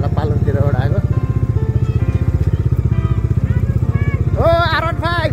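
A Yamaha R15 motorcycle engine drones steadily and loudly close by throughout a ride near a dam, with a constant rapid pulsing beat and voices talking over it.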